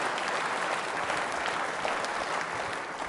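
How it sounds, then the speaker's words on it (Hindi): Audience applause fills a Doordarshan television studio during a quiz show for trainee state services officers, a dense, steady clapping from a crowd that holds loud and unbroken throughout, with no voices over it. "तालियां जोरों से"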